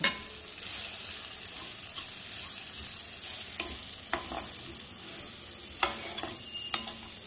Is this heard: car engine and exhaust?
no